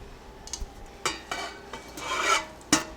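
Drained canned sliced peaches, about nine cups, tumble into a cooking pot in several soft wet clatters and scrapes, with a louder metallic knock near the end, close and alone.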